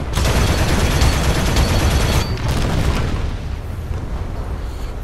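Sustained heavy gunfire in the War Thunder combat game, a dense loud barrage of rounds being poured into a target, easing slightly toward the end.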